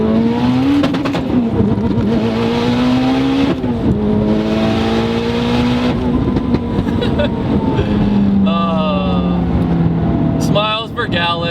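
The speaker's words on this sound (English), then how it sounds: "clutch, you have to rev it out really high" An 820 HP Mitsubishi Evo X engine revs hard and high, its loud, sustained tone climbing and dropping through pulls as the clutch is revved out, with brief shifts between.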